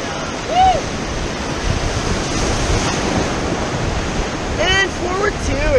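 Whitewater rapids on the Sauk River rush and splash around a rafting boat in a continuous loud roar with wind buffeting the microphone, while voices shout and whoop briefly over the water.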